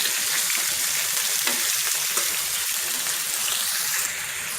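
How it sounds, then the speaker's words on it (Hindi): Chicken pieces fry with onions in a hot pan, a loud steady sizzle and crackle of oil that holds constant close up, with faint stirring and no talking. "करीब 5-6 मिनट तक इसे तलें।"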